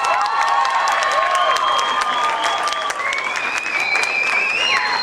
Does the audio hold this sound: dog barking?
no